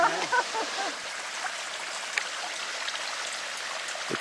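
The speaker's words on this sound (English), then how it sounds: "it isn't even a real creek, just a little bit of water flow down the hill" A small trickle of water runs down a hillside on a spring hike near the Rhine, giving a continuous soft, hissing babble at moderate level, with no voices.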